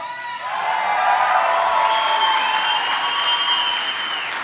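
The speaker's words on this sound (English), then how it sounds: "I've waited 45 years for that sound. The sound of your clapping." Audience at a regional Emmy awards ceremony breaks into sustained applause, a dense roar of many hands clapping that swells quickly and holds steady, with a few whoops and cheers over it.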